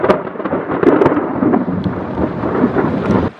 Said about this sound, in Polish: Bardzo mocny dodatni wyładowanie.